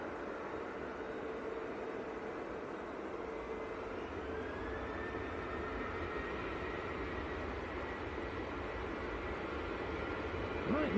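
A Ryanair airliner at Manchester Airport gives a steady, distant roar over broad background noise, holding an even level throughout with a faint rising whine and no clear talk.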